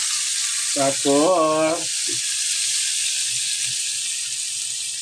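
Soy sauce hits a hot pan of adobong chicken with labong and keeps up a bright, steady sizzle from start to end, while someone speaks briefly over it.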